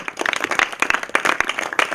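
Applause from a congregation at a thanksgiving gathering with orphans in Gabon, a dense run of many hands clapping together, steady and fairly close throughout.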